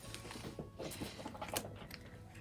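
Scratching and rustling, close by and fairly quiet, in irregular bursts like claws dragging on fabric as a cat climbs.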